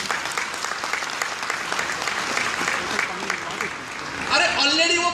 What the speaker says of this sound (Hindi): चाहूंगा जोरदार ताली के साथ।